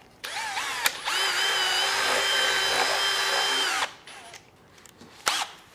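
A power drill bores into a walleye taxidermy mount, winding up in a steady high whine for nearly three seconds before stopping, with brief clicks before and after and no talk.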